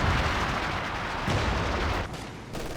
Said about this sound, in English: Oh, tulip rockets!